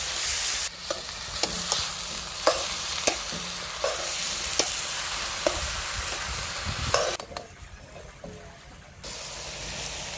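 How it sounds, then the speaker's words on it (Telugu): Ginger garlic paste fries in a pan with a steady sizzle while a spoon stirs it in regular scraping strokes, close up. The sizzle drops away briefly near the end. "అల్లం వెల్లుల్లి పేస్ట్ వేసుకున్నామండి వేసుకొని మొత్తం కలిపి వేసుకున్నాం"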